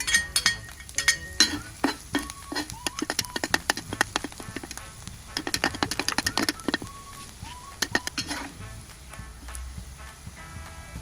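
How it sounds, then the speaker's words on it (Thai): Chopped garlic stirred in a little oil in a pan while cooking fried instant noodles, with a faint low sizzle under sharp clinks and scrapes of a metal utensil against the pan, coming in bursts. "ใส่น้ำมันลงไปเล็กน้อยนะครับ นำกระเทียมสับลงเจียวให้หอมนะครับ"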